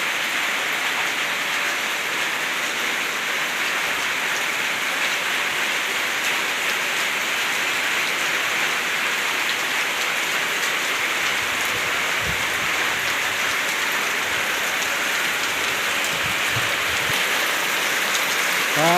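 Steady, dense rainfall pours down continuously, a loud broadband hiss of drops hitting surfaces with no voices.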